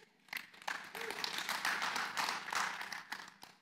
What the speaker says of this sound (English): Yeah, you guys could go ahead and clap.